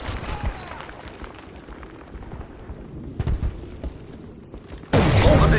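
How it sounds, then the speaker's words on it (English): Predator missile strike in a multiplayer shooter video game, a sudden loud blast near the end after scattered distant booms and clatter of battle. "Friendly Predator missile inbound."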